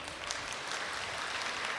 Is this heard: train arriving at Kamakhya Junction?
no